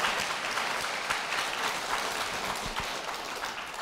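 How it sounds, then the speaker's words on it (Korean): Studio audience applause on a Korean Christian television church program, welcoming a guest onto the set: steady, dense clapping that holds at an even level for about four seconds with no voices over it. "박수로 모시겠습니다."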